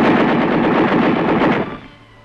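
Armored fighting vehicle guns fire at the Aberdeen test range in a dense, continuous burst of loud automatic gunfire that cuts off sharply and leaves a fading rumble.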